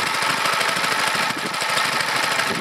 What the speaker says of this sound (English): the working through the governor is working pretty good on the engine, keeping it steady